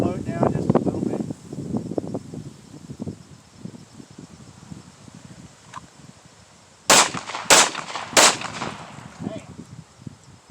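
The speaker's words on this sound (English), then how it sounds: "I'm going to do a 2 to the chest, 1 to the head" Three sharp pistol shots ring out in quick succession during a two-to-the-chest, one-to-the-head target drill, loud and close, following a stretch of talking and background noise.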